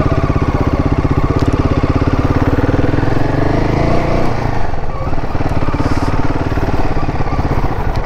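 Royal Enfield Himalayan 450 motorcycle being ridden, a loud, close, continuous engine drone with a fast steady pulse throughout and a slight shift in tone midway, no talk.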